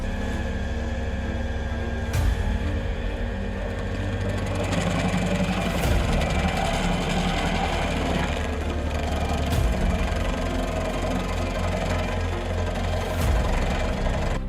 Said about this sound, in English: That's where the Bobcat skid steer steps in.